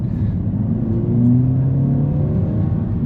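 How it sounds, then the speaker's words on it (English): A 2025 Mercedes-Benz A35 AMG engine in Sport Plus mode revs and builds in a steady, strong low rumble, its pitch climbing as it accelerates. "this little engine, I tell you, once you put it into Sport Plus mode, which we're doing now"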